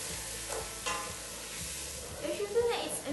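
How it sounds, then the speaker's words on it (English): Ginger fries in a pan with a soft, close sizzle while a utensil stirs it in short scraping strokes, fairly quiet and brief. "Just stir it a bit."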